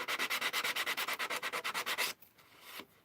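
An emery board rubs rapidly against a rubber stamp in quick, even back-and-forth scratchy strokes, about a dozen in a row. They stop abruptly, followed by a softer, quieter scrape.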